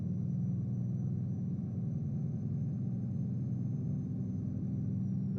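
Steady low diesel rumble of a truck engine hauling a 70,000 lb crane load in American Truck Simulator, droning evenly and continuously at moderate level with no speech over it.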